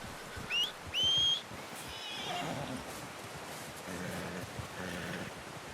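A horse in the video game Red Dead Redemption 2 gives two loud, rising whinnies near the start, then snorts and shuffles with soft hoof sounds and a quieter ambient background.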